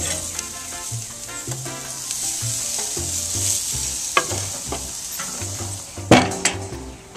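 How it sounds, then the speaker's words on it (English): Pork searing on a hot grill gives a steady close sizzle and crackle throughout, broken by a few sharp ticks and a louder scrape near the end, with no voices. "Getting those good grill marks on there. Now that I've gotten this seared on all sides"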